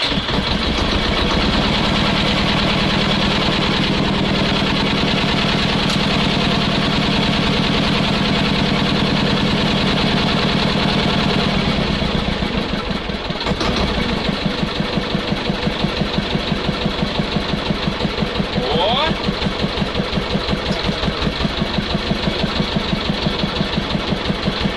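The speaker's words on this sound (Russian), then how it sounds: "Запускаем мотор." A T-16 tractor engine runs loud and close with a rough, throbbing mechanical rhythm; midway its tone shifts and it keeps chugging steadily, with no talk over it.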